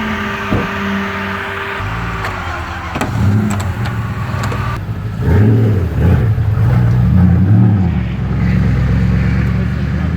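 A powerful tuned race car engine nearby burbles and revs in several rising, rumbling surges, with a faint voice under the noise.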